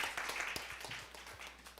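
A church congregation at a Sunday worship service gives quiet, scattered clapping with individual claps audible, fairly faint and even throughout.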